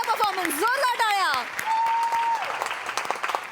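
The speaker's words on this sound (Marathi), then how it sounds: "मस्त झाला परफॉर्मन्स, जोरदार टाळ्या." Loud applause from an audience right after a comedy performance, a dense burst at first that thins out over a few seconds, with voices whooping and talking over it.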